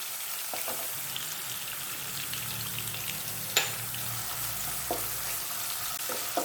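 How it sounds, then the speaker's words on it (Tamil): Chopped garlic and ginger fry in hot oil in a pan, giving a steady soft sizzle with a few sharp clinks of stirring. "பூண்டும் இஞ்சும் நல்லா வதங்கிடுச்சு"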